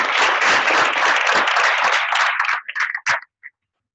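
An audience at a gathering gives a dense, loud round of applause that holds steady, then thins out into a few scattered final claps before falling silent.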